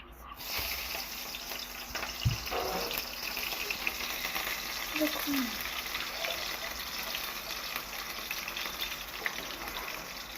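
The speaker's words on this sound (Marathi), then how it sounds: "तर आता आपण पहिल्यांदा मिरची टाकूया." Green chilies sizzle in a pan while Maggi noodles are prepared, making a continuous frying hiss with occasional stirring clinks and faint background voices.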